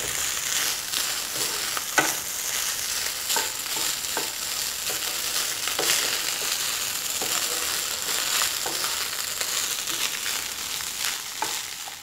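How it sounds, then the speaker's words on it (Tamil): Egg rice is stirred in a hot pan, a continuous close sizzle of frying punctuated by repeated scraping and tapping strokes of a spoon, steady and fairly loud, with no voices. "நல்லா சாதத்தை கிண்டி விடுங்க"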